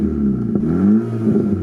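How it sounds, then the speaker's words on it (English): The engine of an abandoned Golf GTI is revved close by, and its exhaust note rises in pitch and falls back in a couple of short blips over a steady droning idle. No one talks. "Let's see if you can hear the exhaust note change."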